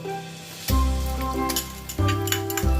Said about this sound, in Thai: ใส่น้ำมันลงไปครับ ใส่กระเทียมลงไปเจียวนะครับ